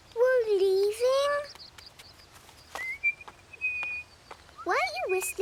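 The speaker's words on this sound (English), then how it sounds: "Why are you whistling? Well, it's like talking to the birds." A cartoon child whistles sustained, high, pure notes to birds outdoors, two short steady tones between animated voices talking before and after.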